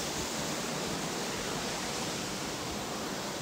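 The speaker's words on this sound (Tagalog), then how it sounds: "Guys, grabe, nandito tayo ngayon sa Hingi Falls." Hingi Falls in Malico, Pangasinan pours in a dense, steady broadband rush of falling water, close and continuous with no voices.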